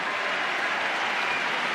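Crowd at the French Open applauding a tennis rally, a dense, steady wash of clapping from many hands throughout, with no voices over it.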